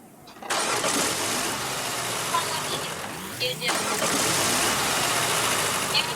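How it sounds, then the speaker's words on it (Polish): A car engine in the Roblox game Dusty Trip turns over and settles into a steady idle, with a rising whine partway through; continuous mid-level rumble throughout, with some talk underneath. "jak się tutaj odpala silnik?"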